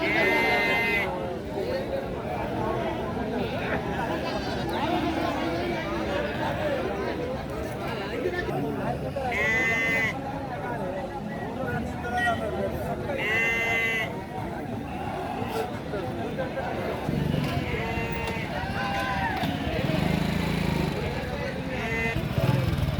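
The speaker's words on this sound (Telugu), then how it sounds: "మేకలు మేకపోతులు ఉన్నాయండి, చూసుకోవచ్చండి." Goats and sheep bleat repeatedly at the Gangadhara animal market, nearby calls rising over constant crowd chatter, people talking and a passing motorcycle.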